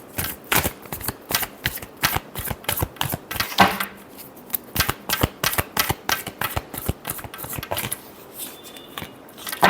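Tarot cards are shuffled by hand in a rapid run of crisp riffles and flicks, close and clear, with a brief pause near the middle before the shuffling picks up again.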